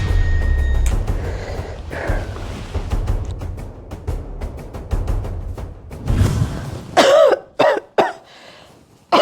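Loud, close coughing from a lingering cough, several harsh bursts toward the end over steady rumbling noise.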